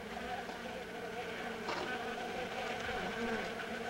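Stingless bees swarm around their hive inside a split log in the Amazon rainforest, a steady close buzzing drone that runs unbroken throughout.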